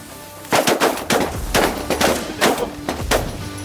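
Rapid gunshots while hunting in standing corn, roughly eight loud close blasts fired in quick irregular succession with short ringing tails, no talking.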